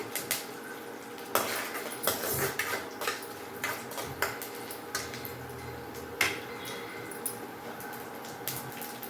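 Chana dal and curry leaves being stirred in a frying pan for a bitter gourd palya, with a spoon scraping and clinking against the metal pan in uneven strokes. The sound is close and moderately loud, with no talking.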